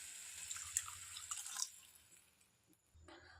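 Water poured into a pot of rice for cooking tomato peas rice, a soft trickling splash that thins out over a few seconds, faint and close with no talking.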